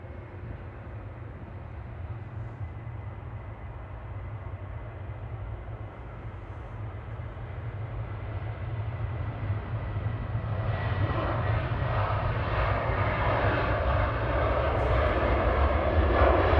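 A heavy jet departs Manchester Airport, its engine roar starting as a steady distant drone and swelling noticeably louder and brighter over the second half, with a brief high tick near the end.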